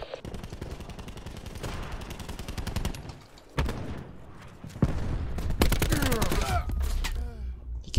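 Gunfire in the video game Call of Duty Black Ops 4, rapid automatic bursts rattling in quick succession, with pauses and later overlapping shots and in-game effects, loud and close.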